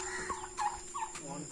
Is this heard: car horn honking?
no